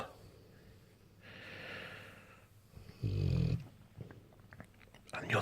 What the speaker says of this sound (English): she's snoring loudly as well